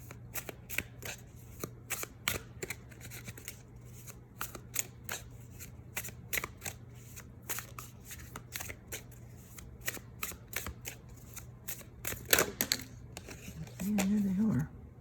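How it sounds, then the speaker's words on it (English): Tarot cards are shuffled and picked from a deck, giving a quiet, irregular series of crisp card slaps and flicks close by, with a faint steady hum beneath and a brief voice near the end. "Now I'm gonna just pick two from the Sensual deck."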